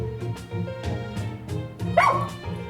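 A video game dog barks several times in quick bursts, then lets out a higher yelp, over a low hum of background music.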